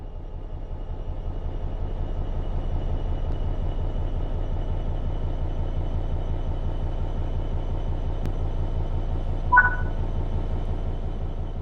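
Electric train in Train Sim World 4 accelerating under power, a steady loud low rumble and rhythmic traction-motor drone throughout, with a brief high click near the end.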